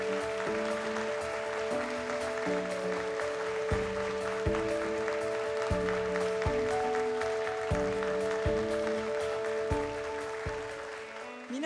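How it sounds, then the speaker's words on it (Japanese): Audience applause welcoming a judge at the Miss Universe Japan 2023 final: steady, dense clapping runs throughout, mixed with loud sustained music playing over it. "皆様大きな拍手でお迎えください。"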